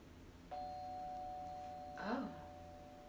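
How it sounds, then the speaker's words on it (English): A doorbell chimes once, then a second tone follows a moment later, moderately close over faint room tone. "That was a doorbell."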